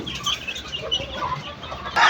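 Several chickens cluck and murmur nearby in a busy, irregular chatter while eating feed, with a slightly louder squawk at the end.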